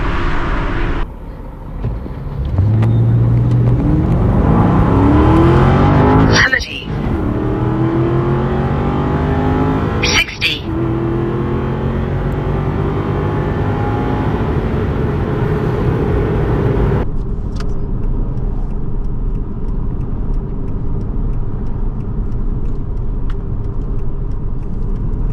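Inside a 2008 Aston Martin Vantage V8 driving along: a loud, steady engine drone fills the cabin, broken by two brief dips like gear changes, and settles to a lower hum near the end, with no voices.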